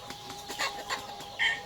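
Free-range village chickens on a small farm, clucking intermittently in short soft bursts with one louder, sharper call near the end, heard alone with no talk.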